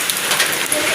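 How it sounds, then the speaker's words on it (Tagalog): Heavy rain pours down in a loud, dense, steady hiss with scattered bright drop impacts, close and continuous. "Grabe, lakas ng ulan."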